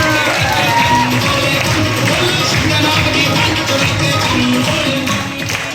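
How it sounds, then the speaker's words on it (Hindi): A large crowd at a Vadic achievement event in Delhi applauds and cheers for Deepchand, loud continuous clapping mixed with whoops and shouts that holds steady throughout. "दीपचंद सर के लिए मैं एक जबरदस्त तालियां चाहता हूं।"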